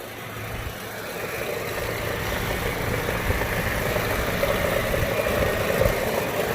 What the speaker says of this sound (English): I'm not liking the way this car sounds